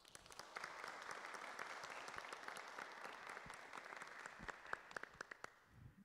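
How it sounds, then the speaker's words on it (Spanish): Sustained applause from an audience at a Spanish-language community forum, dense and steady for several seconds with a few sharper individual claps standing out before it tapers off near the end. "Recibamos con un fuerte aplauso"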